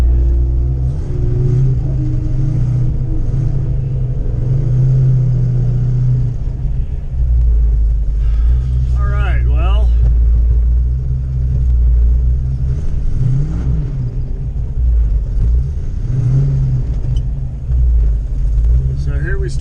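A car engine idles and runs steadily at a track day, a loud constant low rumble with brief revving toward the middle, while someone talks over it.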